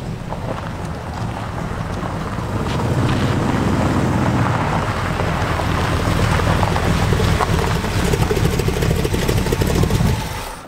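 A 1927 Ford hot rod drives around a corner, its engine a loud, rough, broadband roar that builds as it nears and then holds steady, with wind noise buffeting the microphone.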